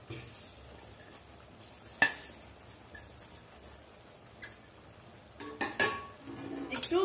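Pumpkin stems and leaves are stirred in a pan with a spatula for a Bengali vegetarian curry, soft scraping and light sizzling with a sharp clack, then louder stirring strokes near the end.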